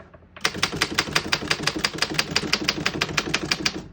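Rapid, even keystrokes on a 1908 Remington Standard 10 antique desktop typewriter, a steady string of sharp mechanical clacks, close and crisp, with no voices.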